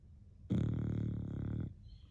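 One long, loud, throaty snore from a beagle rattles for just over a second, close up, then fades back to near silence.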